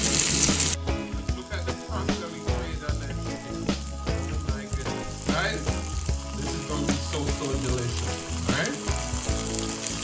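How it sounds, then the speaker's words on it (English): Jerk-glazed chicken pieces sizzle steadily in a hot frying pan as they brown, a close, continuous crackle heard under background music. "So we're going to brown this on each side, and then we're going to set them to rest."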